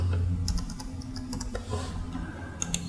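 Fast typing on a computer keyboard fills the recording with a steady patter of clicks and keystrokes, close and clear, with a low background hum and no voices.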